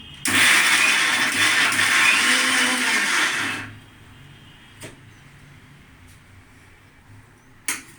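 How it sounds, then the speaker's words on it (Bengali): A kitchen mixer grinder whirs loudly for about three seconds as it grinds taro paste, then cuts off, leaving a quiet room broken by a couple of small knocks. "মিক্সিতে এবার একটু এটাকে আমি ঘুরিয়ে নিচ্ছি।"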